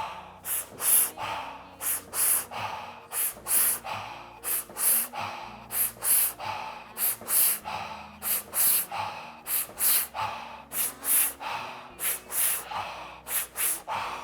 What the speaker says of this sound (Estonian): Jätka hingamisega.